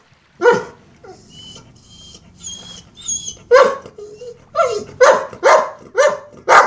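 A dog barks repeatedly at close range, a few sharp barks at first, then a faster burst of barks toward the end, with soft whimpers between.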